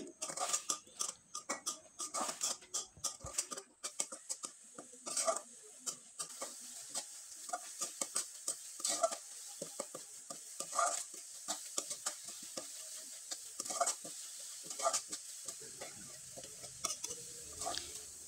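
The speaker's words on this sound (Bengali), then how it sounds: "এখন নেড়ে চেড়ে এই পুরটাকে কিন্তু শুকনো করে তৈরি করে নিতে হবে।" Grated coconut filling stirred in a pan to dry it out for stuffed pitha, a long stretch of close, irregular spoon scrapes and taps against the pan over a faint dry sizzle, with no talking.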